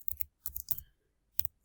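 Several quick keystrokes on a computer keyboard while a web address is entered, sounding as short crisp clicks in two small bursts with a pause between, close and fairly quiet.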